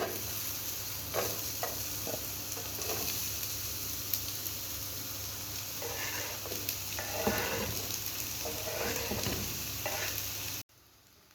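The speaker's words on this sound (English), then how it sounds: "Now pour some vegetable oil into the pan and start frying your onions." Onions frying in vegetable oil in a pan, a steady loud sizzle with occasional stirring scrapes and crackles running throughout, then cutting off abruptly near the end.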